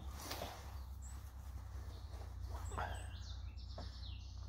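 Pigeons, newly unboxed, give faint, scattered chirps and calls over a steady low hum, with no talking.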